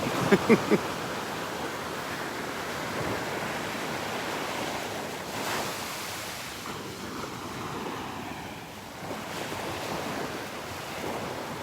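Surf rolls onto the beach at Delnor-Wiggins in a continuous wash of breaking waves, with wind buffeting the microphone and a few brief knocks at the start.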